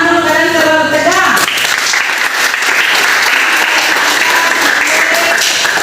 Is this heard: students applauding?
yes